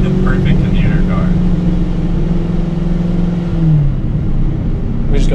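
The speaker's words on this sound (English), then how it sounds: "What's that noise? Is that a supercharger? That's a blower, yeah." Supercharger whine from a Ford Mustang GT350 running on a dyno, a steady mechanical engine drone with rising whine tones, loud and continuous beneath people talking.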